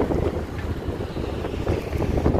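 Strong wind buffets a boat at sea as waves rise, a dense, continuous roar of wind noise and rushing water that stays loud and steady throughout, with no voices.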